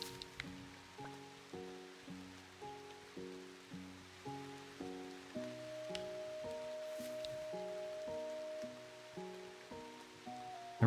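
Rain falling in the farming video game Echoes of the Plum Grove, a soft, steady patter heard faintly under a gentle repeating melodic game soundtrack, with no talking.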